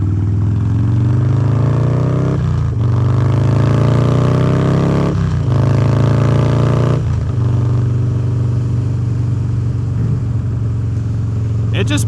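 A custom Harley-Davidson Dyna Street Bob motorcycle engine accelerating, loud and close, climbing in pitch through several gear pulls with brief dips between shifts, a steady low rumble beneath; a rider speaks over it.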